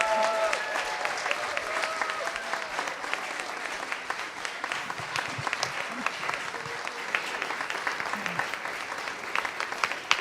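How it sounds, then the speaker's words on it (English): Steady, sustained applause from an audience fills the room for about ten seconds, dense and even, heard at a moderate distance with faint voices mixed in. "I want you to applaud the next leaders of your world."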